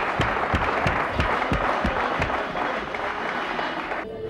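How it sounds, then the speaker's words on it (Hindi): Audience applause for a school principal at a Sindhi quiz game show: a dense, sustained wash of many hands clapping, with a few sharper individual claps standing out, continuing steadily before easing off at the end. "प्रिंसिपल को तालियां से बजाओ"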